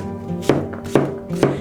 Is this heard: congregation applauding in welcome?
no